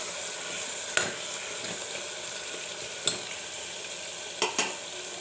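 Eggplant pieces fry in hot oil with a steady, even sizzle, and a few sharp scrapes and clicks come from stirring with a utensil.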